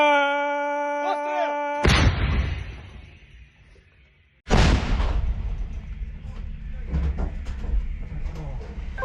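Two deafening blasts from a 155 mm artillery gun, the first at about two seconds and the second near four and a half, each followed by a long rumbling decay, with people talking around them and a tonal hum before the first shot.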